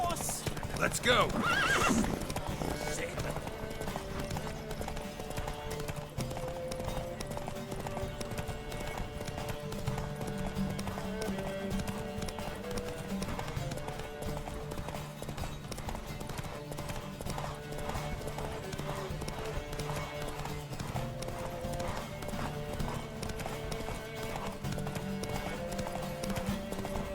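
Continuous hoofbeats of horses galloping in a race in The Witcher 3 video game, with a whinny near the start and music beneath, steady throughout.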